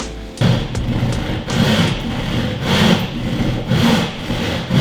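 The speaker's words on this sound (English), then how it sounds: "I'll cut them out with the handsaw just so they slip in into the frame there" A handsaw cuts out the marked corners of wood pieces so they fit into a frame. It gives a loud, close, rhythmic rasp with regular back-and-forth strokes and no talking.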